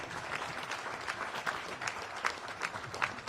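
An audience at a speech in Chicago breaks into applause, a continuous wash of clapping from a crowd that sounds somewhat distant and steady throughout, with no voices standing out.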